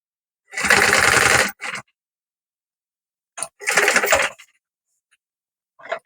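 A sewing machine stitches the edges of fabric bias binding in two bursts, each running about a second with a quick extra spurt after it, loud and close with a pause between.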